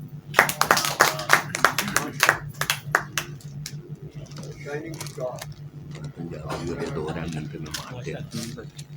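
Applause at a mushaira poetry gathering: a burst of sharp, close hand claps that thins out after a few seconds into scattered claps under talk and crowd murmur.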